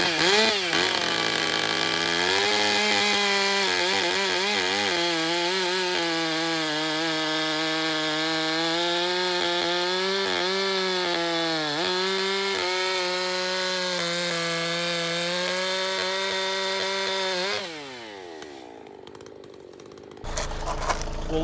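A chainsaw cuts steadily through the butt end of a white oak log for firewood, its loud engine pitch dipping and wavering under load for about seventeen seconds, then dropping off to a lower idle near the end.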